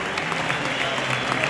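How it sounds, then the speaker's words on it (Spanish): Crowd of visiting Sporting de Gijón supporters applauding inside a stadium at Santander after Racing's 2-0 win, a steady dense wash of clapping that fills the whole stretch with no pauses. "Aplaudiendo a la peña que vino"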